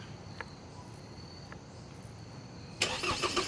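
A Chevrolet Colorado ZR2 with a Duramax diesel, tuned with an aftermarket downpipe and exhaust, cranks and fires up near the end. It catches with a loud, rough, pulsing idle after quiet cricket chirping.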